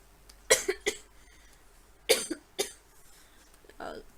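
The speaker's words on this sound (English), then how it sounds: "Pardon me also because I have cough" Two clusters of harsh, close coughs, each a quick sequence of three bursts, separated by a short pause, with a softer throat sound at the end.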